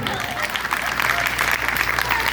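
An audience at a comedy segment of a religious discourse programme claps steadily, a dense, even burst of applause from many hands lasting a couple of seconds.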